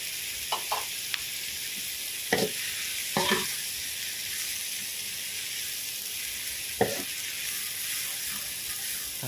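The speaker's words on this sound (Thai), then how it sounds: "พัดพัดให้เข้ากัน" Glass noodles and egg stir-fried in a pan, a steady bright sizzle with intermittent scraping clacks of the spatula against the pan, close and continuous without talk.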